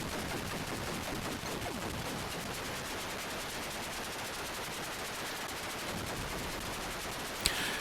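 Rapid continuous shooting in Warhawk on an Atari 8-bit computer, a dense rattling stream of chiptune gunfire noise at steady volume, ending with a brief sharp burst and a short rising tone.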